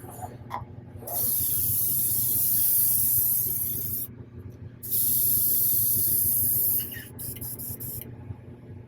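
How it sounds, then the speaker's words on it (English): An airbrush sprays thinner in two long hissing bursts separated by a short pause, close by and steady. "run a little thinner through my airbrush real quick"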